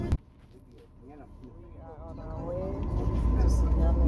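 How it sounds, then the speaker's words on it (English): Bus interior on a trip to Sunyani, with a steady engine rumble and road noise that builds as the vehicle gets under way, and faint voices talking underneath. "Inside of the bus now."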